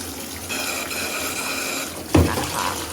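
Tap water pours into a baby's bath in a close, steady splashing stream, followed by a brief knock and a louder burst of water near the end.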